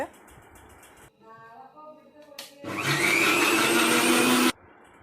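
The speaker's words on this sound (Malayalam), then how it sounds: "ഇത് നമുക്ക് നന്നായിട്ട് അരച്ചെടുക്കണം കേട്ടോ ഇതൊരു മുക്കാ ഭാഗം നമ്മൾ അരച്ചെടുക്കണം ആദ്യം മിക്സിയിൽ" A kitchen mixer grinder grinds curry paste with water for a mango curry. A loud, steady motor whirr runs for about two seconds, after a voice is heard speaking briefly, and then cuts off abruptly.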